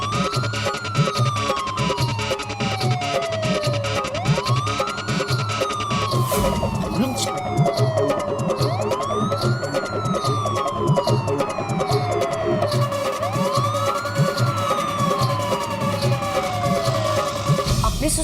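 Ambulance siren arriving at a city housing society, wailing in continuous rising and falling sweeps over a loud engine rumble and background traffic, close and dominant throughout.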